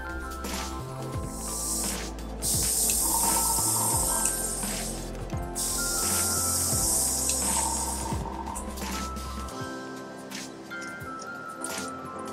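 An airbrush with a 0.3 nozzle sprays thinned Mission Models paint onto MiniArt street diorama pavers, giving two long bursts of steady hiss with short pauses, close up over a low constant background hum.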